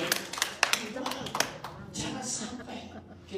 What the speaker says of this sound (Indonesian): Yang mau bersyukur, tepuk tangan dulu buat Tuhan kita yang ngasih.